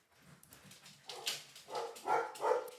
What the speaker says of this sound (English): All the dogs are going to bark now.